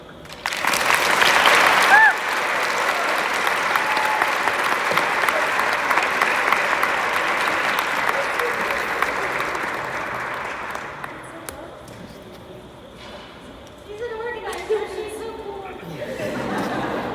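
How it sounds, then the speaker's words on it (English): Sustained applause from an audience at a Relay for Life luminary ceremony, loud and steady for about eleven seconds before fading, followed by softer scattered clapping and faint crowd chatter. "Can we get another round of applause, please?"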